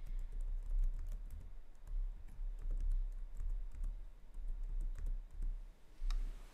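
A first name is typed on a computer keyboard, a run of quick close key clicks in irregular bursts with short pauses, ending in a sharper click.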